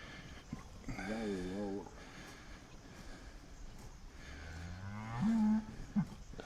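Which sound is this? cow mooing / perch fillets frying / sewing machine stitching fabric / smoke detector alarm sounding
cow mooing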